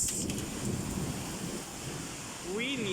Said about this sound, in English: Really heavy rain.